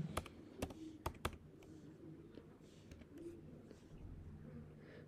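Keys tapped on a computer keyboard while entering a one-time verification code, a quick burst of sharp close keystrokes at the start, then quieter room noise.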